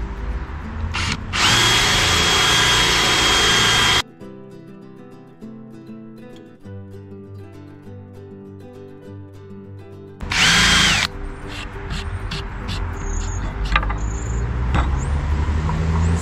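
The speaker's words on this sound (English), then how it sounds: "I'm going to change this again for our countersink bit. So this is just going to create a little hollow for our screw to sit in." A power drill fitted with a countersink bit bores screw holes while building a wellie rack: one long, loud whirring run, then a shorter burst, with soft background music in the gap between.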